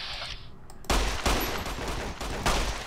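Gunfire in the Fallout New Vegas video game comes as several loud, sharp bursts in a row, each with a short ringing tail, following a quieter stretch. No one speaks.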